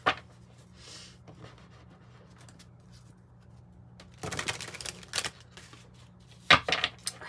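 Pulp Tarot cards shuffled and drawn by hand, a short riffle at the start, then quick bursts of papery card flicks and snaps later on, close and dry with no talking.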